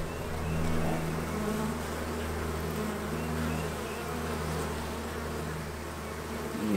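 Honeybees buzz around healthy hives in the sun, a steady, close, droning hum that holds for several seconds without any voices.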